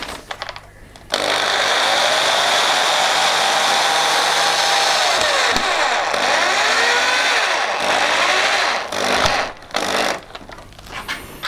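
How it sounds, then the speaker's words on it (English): A power screwdriver drives screws through wooden strips into the bulkheads of a strip-built kayak, a loud, sustained whirring run with brief pitch dips as each screw seats, then short bursts near the end. "I want to do now is to screw all the boards on the bulkheads in place and not rely on the clamps"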